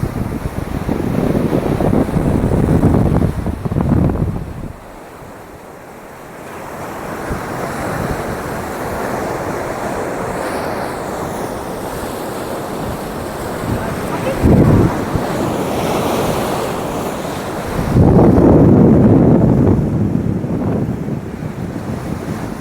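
Sea waves at Chennai beach surge and break loudly in repeated swells, with heavy wind buffeting the microphone throughout.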